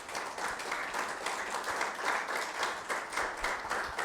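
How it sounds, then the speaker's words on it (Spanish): A church congregation applauds during a sermon, steady massed clapping with a gently pulsing rhythm, moderately distant and continuing without pause. "Denle un fuerte aplauso al Señor de su merece."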